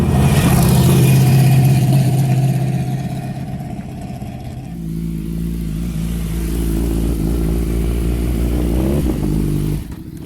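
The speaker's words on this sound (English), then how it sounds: "I can hear bikes coming, so Eric must be nearly here." Racing motorcycles on the world's longest hill climb in Mexico: loud, steady engine drone with sustained tonal whine that shifts pitch midway, holding near and strong before cutting off abruptly at the end.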